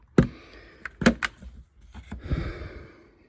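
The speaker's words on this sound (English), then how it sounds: "I'm gonna take my flathead screwdriver, open this little door" Small plastic access door on a Toyota car door panel pried open with a flathead screwdriver, giving a few sharp close clicks and snaps with quieter handling rattles between them.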